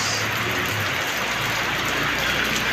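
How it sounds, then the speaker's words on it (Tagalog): Steady rain falls in a dense, even hiss of drops hitting surfaces, continuous and fairly close, with no voices. "Talagang maulan."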